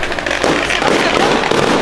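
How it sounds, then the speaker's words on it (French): Christmas firecrackers and fireworks bursting in a dense, loud crackling barrage, continuous popping throughout with no pause. "On a raté des pétards!"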